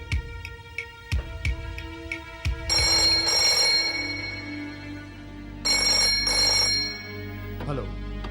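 A telephone rings indoors in a suspense drama scene, sounding in repeated bursts of bright ringing. Low thuds sound early on, and a sustained tonal bed runs underneath.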